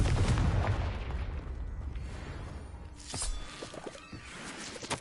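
A loud explosive blast from the Confringo spell in Hogwarts Legacy opens with a heavy low rumble, then a second sharper burst and crackling debris follow around the three-second mark.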